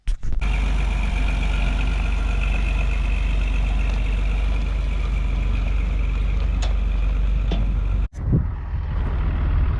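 A farm tractor hitched to an air seeder runs with a steady, loud diesel drone and low rumble for about eight seconds, then cuts off abruptly, leaving quieter outdoor background.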